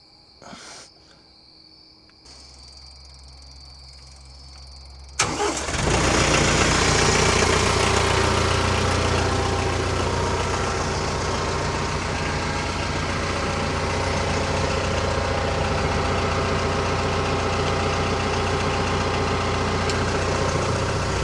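After a couple of clicks and a quiet motor, a TYM T474 HST tractor's heavy engine starts up and settles into a loud, steady idle that continues unbroken.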